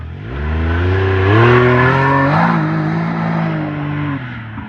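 A Can-Am off-road vehicle in 4-wheel drive accelerates hard, its engine note climbing and revving loudly up close for several seconds, then easing slightly before holding steady.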